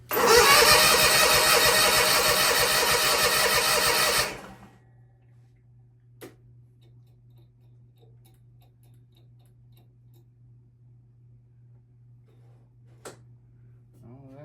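A Kawasaki FR730V engine on a 2020 Bad Boy mower cranks and runs loudly for about four seconds, then cuts out, leaving a low steady hum with a couple of faint clicks.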